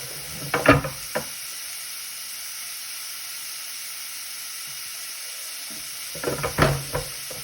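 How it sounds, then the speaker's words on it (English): Vegetables for tomato soup sizzle in a hot pan as a wooden spoon stirs them, in two short bursts of frying and scraping separated by a stretch of near-quiet. "Use a wooden spoon, just give it a bit of a mix around"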